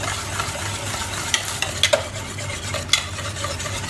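Sugar being mixed into brownie batter in a bowl: a steady, close scraping stir with a few brief clicks of the utensil against the bowl, and no voices.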